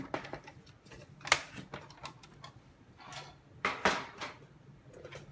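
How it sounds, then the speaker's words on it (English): Paper cutter scoring a line down the middle of card stock for an easel card front, heard as a series of close, sharp clicks and scraping taps in quick irregular bursts, with two louder strokes standing out. "bring in the paper cutter, and then remember I need to score it down the middle for the front piece"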